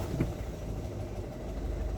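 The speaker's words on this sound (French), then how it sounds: "Là le bruit de moteur ça a changé un petit peu les amis, c'est pas grand chose." A Citroen C4 Grand Picasso engine idling after an oil change and filter service, a low steady hum with a faint mechanical murmur, close by and fairly quiet, with no talking.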